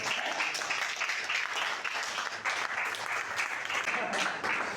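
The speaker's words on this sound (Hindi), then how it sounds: "छोटी मोटी तालियों से नहीं और भव्य तालियों से ही आते हैं।" Applause from an audience greeting a guest arriving on stage, sustained dense clapping at a moderate level for the whole stretch, with no break and no voices rising above it.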